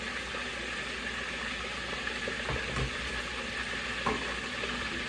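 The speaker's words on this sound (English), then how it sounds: "So we're gonna let this fish fry" Fish coated in yellow cornmeal batter frying in hot oil, a steady close sizzle and bubbling that stays even throughout, with a few faint clinks and no talk.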